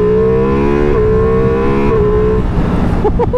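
A 2023 Ducati Multistrada V4 Rally with a 170-horsepower engine pulls hard in third gear on a highway, its loud, close engine note climbing steadily through two stepped revs before dropping into rougher wind and road noise.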